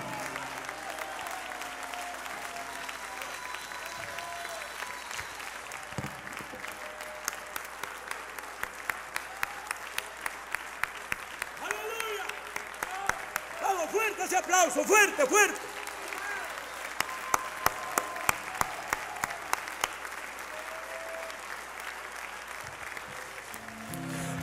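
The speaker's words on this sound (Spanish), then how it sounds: "le da un fortísimo aplauso al Señor en esta hora" A church congregation claps during a service, a long run of moderate applause with sharp individual claps standing out in bursts, while voices and speech carry over it throughout.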